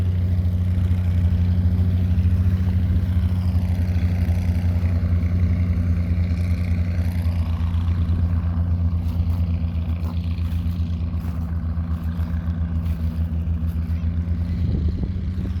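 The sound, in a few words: tractor engine running at plow day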